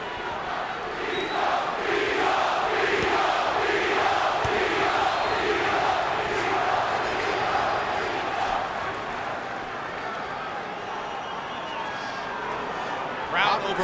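A boxing arena crowd roars and chants for Felix Trinidad during his world middleweight bout with Bernard Hopkins, a dense, sustained wall of many voices with rhythmic swells, loud and steady throughout, easing slightly near the end.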